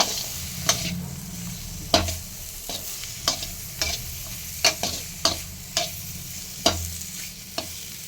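Amudi fish with winter vegetables being stirred in a pan, a steady close sizzle broken by regular sharp scrapes and knocks of the spoon about once a second.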